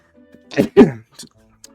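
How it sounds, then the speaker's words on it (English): A short sneeze-like burst in two sharp bursts, close and fairly loud, followed by a couple of small breathy sounds in quiet surroundings. "I got another sneeze coming probably"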